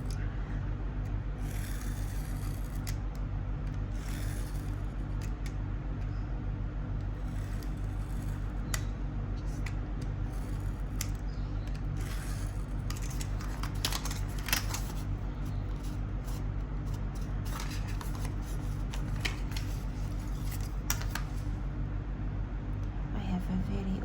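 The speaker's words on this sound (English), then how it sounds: "now we're going to cut this piece using our cutter" A very old cutter slices ribbon on a cutting board, giving faint scattered scraping strokes over a steady low mechanical hum.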